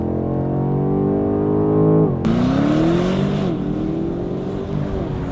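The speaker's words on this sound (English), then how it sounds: "I'm gonna do the 0 to 100 kilometer sprint again. Foot on the brake, full throttle." A BMW M850i Convertible under launch control: the engine holds high revs at full throttle, then drops and surges as the car launches and accelerates hard, with a loud rising engine note through the gear change.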